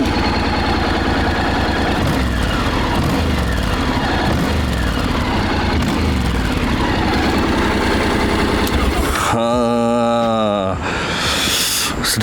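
A Honda X-ADV scooter with a V-twin engine runs at idle, a loud, steady, close-up throb with a brief rising and falling tonal sweep near the end.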